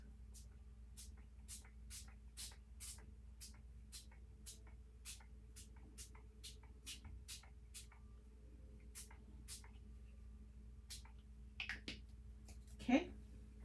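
Faint, quick puffs from a can of rusty hinge spray paint come in a regular train of short bursts over a quiet room hum, followed near the end by a small rustle and a clack.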